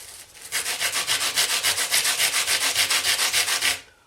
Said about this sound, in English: the next stage that I tend to do is get a piece of sandpaper